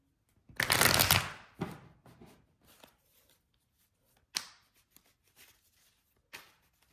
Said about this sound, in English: We are going to hit up the tarot next here, just so you can see it, what's happening.